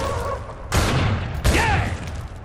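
Killing Floor 2 combat: two heavy booming blasts of gunfire and explosions land close together over a continuous din of game noise.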